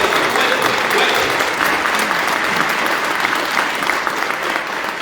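A church congregation applauds during a sermon, a loud, dense and continuous wash of clapping from many hands that fills the space and holds steady without a break.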